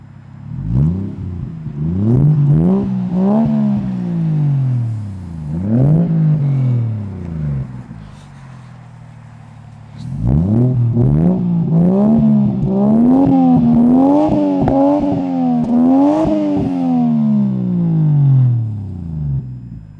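The exhaust of a Toyota 1JZ-GTE engine revs up and falls back again and again, loud and close, with swelling pitch sweeps split by a short idle gap and no talking.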